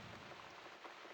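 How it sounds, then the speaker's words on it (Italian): Steady rain falls in The Cat Lady video game as a soft, even wash of drops, quiet and continuous through the short stretch with no other sounds. "Looks like we got the rain back."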